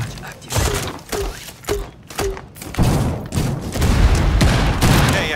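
Cluster charge in Rainbow Six Siege setting off a rapid string of sharp blasts and thuds, five or six close bangs in quick succession followed by a dense rumbling barrage of gunfire-like cracks and debris.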